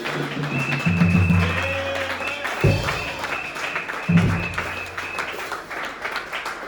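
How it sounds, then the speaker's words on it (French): Church congregation applauding during a French-language worship service, a steady wash of clapping running throughout with sustained tones beneath and brief louder swells. "Acclamons pour le ressuscité. Acclamons pour le vivant."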